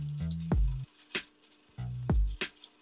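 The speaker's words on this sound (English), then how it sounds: "I'm gonna separate the egg yolks and whites." Eggs being cracked and separated into yolks and whites for tiramisu, two repeated sequences of close wet squishes, drips and sharp taps, each followed by a quick shell crack, no talking.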